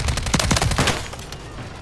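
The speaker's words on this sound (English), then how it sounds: "Shot with my MGB." An MGB machine gun fires in a Modern Warfare 3 match, a rapid burst of close, loud shots in the first second, then a noisy rattling tail with no talking.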